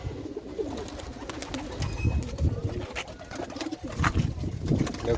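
A flock of giribaz pigeons released in Nadia, Shantipur, giving repeated low burbling coos up close, with soft wing flutters and light chirps over a steady background murmur.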